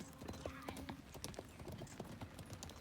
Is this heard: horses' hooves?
yes